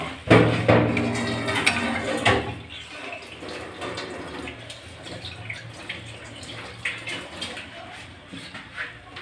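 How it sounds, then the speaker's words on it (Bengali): Water poured into a simmering beetroot and fish curry, with a splashy pour near the start fading into softer bubbling and faint kitchen noise. "তারপরে সামান্য জল দিয়ে দিব।"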